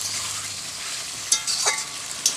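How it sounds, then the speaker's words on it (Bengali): Mutton sautéing with spices and a little water in a pan, a steady sizzle with sharp bursts of louder spitting and scraping stirs breaking through near the end. "একটু জল দিয়ে ভালো করে কষে নিচ্ছি"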